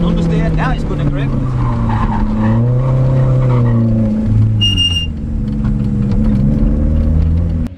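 A Lotus Elise Cup R on a driver-training track slides into a fast corner, its loud, close engine drone shifting pitch as the tyres scrub through the slide.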